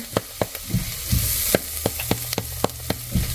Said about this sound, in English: And let's saute this for 1 more minute.